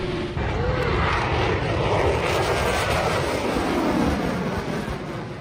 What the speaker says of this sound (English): The F-22 Raptor delivers a breathtaking display at the Oshkosh Air Show